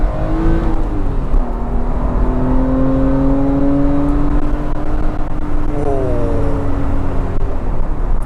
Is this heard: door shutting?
no